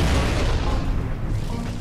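A video game grenade explosion booms loudly and rolls out into a rumbling decay lasting under two seconds.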